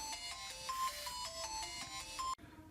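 Phone ringtone goes off during an economics lesson, a bright repeating melodic tone pattern playing steadily for over two seconds before cutting off abruptly, with no talking.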